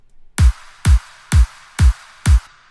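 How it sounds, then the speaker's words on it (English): Five punchy kick drum hits with layered claps land at an even, steady tempo, each a deep thump topped by a bright snap. "So the kick and the claps sound like this."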